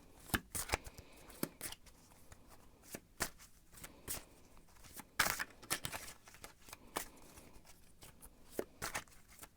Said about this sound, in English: shuffle and see what the cards have to say about